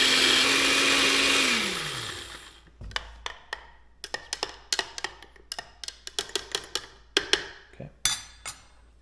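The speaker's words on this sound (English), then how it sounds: "When you turn it on, put it on low. Blend your garlic until it's smooth." A Shardor mini food processor blends garlic on its low setting with a loud, steady motor whir for about two seconds. The whir then winds down and gives way to a run of scattered clicks and light taps.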